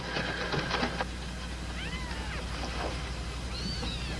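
Cat with a broken leg meowing from nearby in a vintage television drama, several wavering, plaintive cries spread over a low steady background hum, with no speech.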